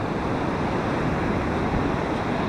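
Ocean surf rolls in at Playa Pavones, a long-wave surf beach on Golfo Dulce in Costa Rica, as a steady, broad wash of breaking waves with wind noise and no voices.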